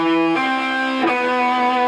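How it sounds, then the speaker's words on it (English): Electric guitar notes ring out alone, echoey with reverb and delay, sustaining and overlapping as each note trails into the next. "it'll sound real echoey with the reverb and the delay"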